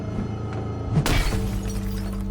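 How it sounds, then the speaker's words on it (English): Glass smashing and shattering in the film Snowpiercer, a single loud crash about a second in with bright scattering debris, over a continuous low rumble of score and ambience. "Are they just gonna smash it and shatter it?"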